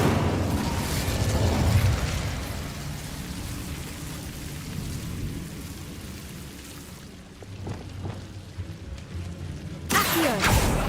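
Hogwarts Legacy's Incendio fire spell produces a dense, roaring crackle of flame and magic that fills the scene. It runs loud and steady, thins toward the end, and closes with a sharp burst.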